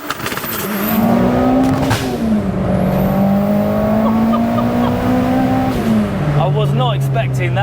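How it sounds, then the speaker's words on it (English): A 550 bhp big-turbo 2-litre stroker engine in a first-generation Audi TT revs loudly up close, its droning pitch climbing and dipping before a final wavering surge. "we'll hop in, get it fired up and go for a spin"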